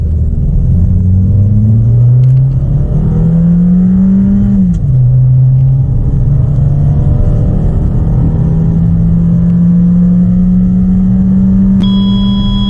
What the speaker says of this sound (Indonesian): sekarang kita akan lihat tes akselerasi 0 ke 100 km/jam dari si XL7 ini